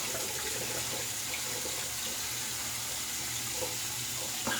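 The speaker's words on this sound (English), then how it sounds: "All right, let's rinse." Water running steadily from a tap while rinsing after a shave with a Rockwell 6S safety razor, a constant close splashing rush with no talking.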